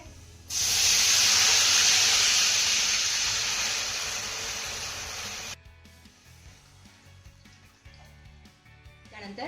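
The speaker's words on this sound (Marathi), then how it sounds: "त्यानंतर या फोडणीमध्ये आपल्याला एक ते दीड ग्लास पाणी घालायचं आहे" A glass of water is poured into hot mustard seed and cumin tempering. A loud, dense sizzling hiss starts abruptly and fades slowly over about five seconds, then cuts off and leaves quiet kitchen background.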